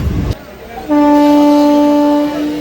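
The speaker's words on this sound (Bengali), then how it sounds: "এই স্টেশনে আমাদের রানাঘাট গেদে লোকাল অ্যারাইভেল নিচ্ছে" The Ranaghat–Gede local train pulls into Bankimnagar halt, a brief rumble followed by a loud, sustained horn blast close by that holds for well over a second before easing.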